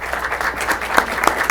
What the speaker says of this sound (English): I didn't know if we're clapping before or after.